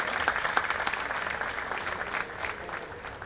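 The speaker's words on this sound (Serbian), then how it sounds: "Molim vas još jedan veliki aplauz za njih" A concert audience applauds in a hall, a dense, continuous wash of clapping from many hands that stays steady and fairly close before tapering slightly at the end.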